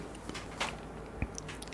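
A close-miked bite of mala tang with glass noodles gives a few soft, wet chewing and squishing sounds over a quiet background, with no talking.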